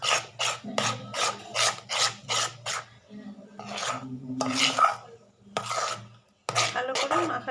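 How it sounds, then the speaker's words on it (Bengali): A semolina (suji) batter for idli being mixed in a bowl, making a rhythmic series of scraping, rubbing strokes up close, broken by short pauses, with a voice speaking faintly underneath. "ভালো করে মাখাতে হবে সুজিটা"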